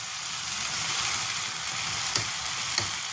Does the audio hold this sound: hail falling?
no